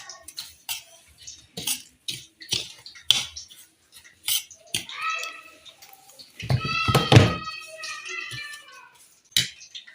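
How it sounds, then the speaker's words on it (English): Seasoned chicken drumsticks being tossed in a bowl, with irregular wet slaps and clinks of utensils against the bowl and a brief louder squelching mix near the end. "Then I'll give it a good mix."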